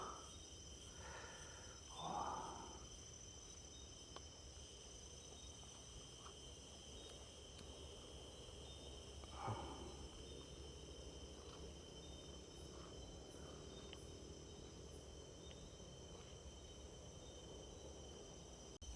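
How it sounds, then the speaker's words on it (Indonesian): Crickets chirping on a mountain hillside: a steady, high, continuous insect trill runs throughout, with soft nearby breaths and rustles. "Tapi ini yang paling seru dari naik gunung nih, suara jangkrik."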